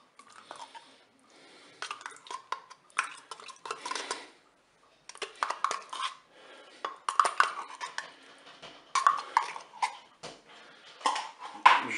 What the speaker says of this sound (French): Je mélange tout ça délicatement